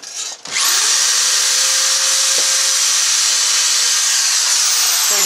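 A 4.5 amp electric drill running on solar battery power spins up after a short pause, then holds a loud, steady, high whine close by until the end.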